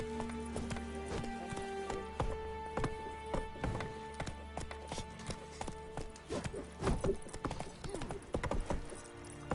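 Roach, a horse in the video game Witcher 3, gallops with steady rhythmic hoof clip-clops over a continuous game soundscape, with brief speech-like bits mixed in.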